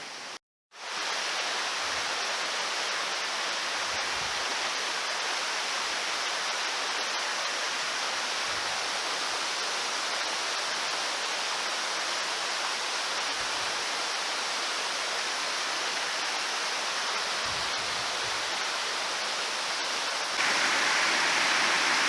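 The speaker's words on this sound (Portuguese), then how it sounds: "onde começa as quedas d'água e mais abaixo está a cachoeira." A steady, loud rush of falling water roars continuously and evenly, with no voices, close and unbroken throughout.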